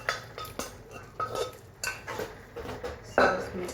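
Boiled chana dal being stirred into cooked spinach in a metal pot: a spoon scrapes and knocks against the pot in irregular bursts, with wet squelching between strokes, close and clear.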